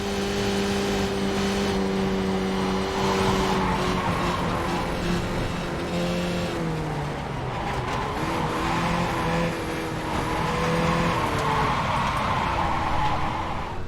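Skip Barber open-wheel race car in the iRacing simulator, its engine revving up and down through gear changes with tire squeal and skidding, loud and continuous with no talking.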